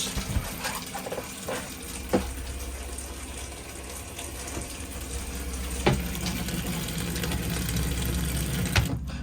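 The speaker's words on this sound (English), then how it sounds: "your water source is working, and that water there is red hot" Hot water from a caravan's boiler system runs steadily from a tap with a constant rushing flow and a low hum underneath, punctuated by a few soft knocks and clunks.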